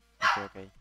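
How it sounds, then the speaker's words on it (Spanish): A household dog gives a single short, fairly close bark that trails into a second, quieter yelp, and a person speaks briefly nearby. "mi perro que está ladrando acá"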